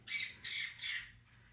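Pet birds named Tweet and Ziggy let out three loud, harsh squawks in quick succession, then a fainter fourth call, close by and alone with no talking.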